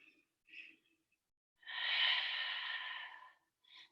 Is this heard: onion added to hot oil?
no